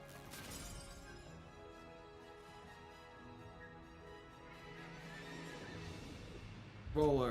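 In the Wonderlands video game, the horse Queen Butt Stallion lets out a long, drawn-out neigh over game music, ending with a sharp crash-like burst right at the end.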